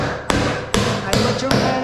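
A hammer strikes four times in a steady, evenly spaced rhythm, each blow loud and close, over a continuous humming tonal background.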